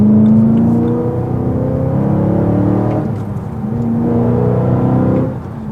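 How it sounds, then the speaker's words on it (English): A car engine revs and drones through an aftermarket exhaust as heard from inside the cabin while driving, a loud, steady, rising and falling tone with gear changes and no talk. "This car sounds awesome"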